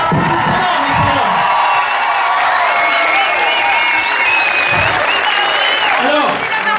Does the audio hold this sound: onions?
no